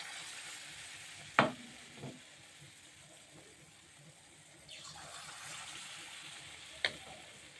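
Palm fruit fritters drop into hot oil in a kadai and settle into a soft, low frying hiss, with a few sharp clinks and splashes standing out against quiet background.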